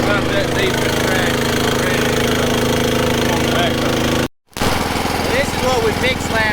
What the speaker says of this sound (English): Y'all hear how the machine's idled down?